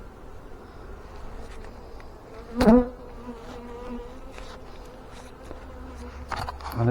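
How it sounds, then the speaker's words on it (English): Honey bees in a backyard hive being inspected fill the air with a continuous close buzz. Individual bees flick loudly past the microphone now and then. "Loads of bees in here."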